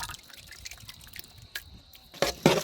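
Thick yogurt being poured into a vegetable pulao makes faint wet drips, then a pair of louder splats near the end, without any voice.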